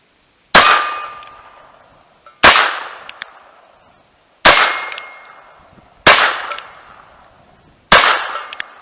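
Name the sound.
rapid gunshots from a handgun drawn from a pocket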